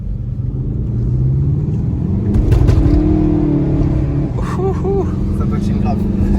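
A Volkswagen Golf 7 GTD accelerates hard with wheelspin, its diesel engine rumbling and rising in pitch close by, with the tone climbing midway and brief tire squeals near the end, while people talk over it.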